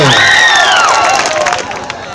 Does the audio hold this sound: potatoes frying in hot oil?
no